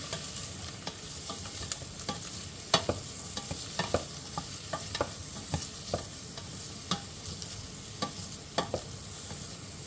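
A wooden spoon stirs vegetables softening in a pan, giving irregular scraping knocks and clicks over a quiet, steady sizzle, close and alone with no voices.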